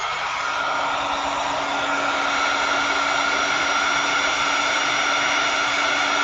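A hair dryer blows steadily and close by, drying paint on a handmade Green Meanie craft figure, with a loud, even whoosh running unbroken throughout.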